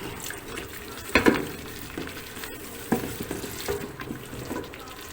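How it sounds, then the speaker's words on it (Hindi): Spice masala roasting in a pan for anda chanay gives a steady low sizzle broken by a few sharp scrapes and clinks of a stirring spoon, close and alone without talk. "मसाला जात पड़ते ही बड़ी खूबसूरत सी खुशबू आनी शुरू हो गई है, मज़ेदार। हम इसे अच्छी तरह भूनेंगे। 5 मिनट तक हम इसको भूनेंगे।"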